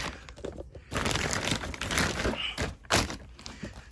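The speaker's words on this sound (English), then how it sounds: "let me fold the plastic bag" A plastic bag is folded by hand while potting soil for container tomatoes, giving close crinkling and rustling bursts with a few soft thunks and pauses between them.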